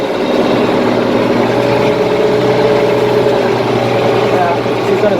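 An International Harvester 1586 tractor engine runs steadily while scraping cow manure, a constant loud heavy drone heard from inside the cab, with a voice talking over it.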